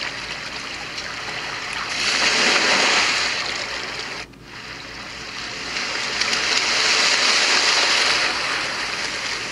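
Ocean waves from a white noise machine swell and recede in a steady broadband wash, rising to two soft surges with a short gap between them, with no talk over it.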